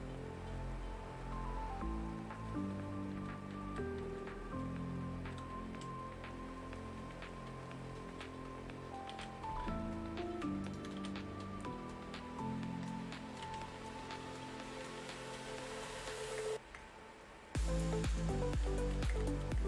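Steady rain patters in a Minecraft jungle world, a soft even hiss running underneath background game music for most of the stretch before it cuts briefly and returns louder.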